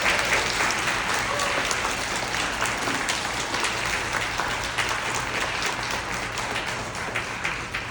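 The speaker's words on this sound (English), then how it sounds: "Can we give them another round of applause?" Audience applause for the cast, singers and crew of a live radio play performance, a sustained wash of many hands clapping from a theater crowd throughout.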